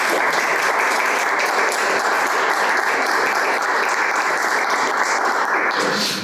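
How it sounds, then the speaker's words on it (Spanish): An audience at a book launch in a cultural centre applauds the young author's parents, a steady, full round of many hands clapping at even loudness for over six seconds, with no talk over it. "quisiera que también le diéramos un gran aplauso a sus padres"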